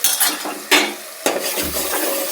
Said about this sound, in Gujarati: અને હળવેથી હલાવી નાખશું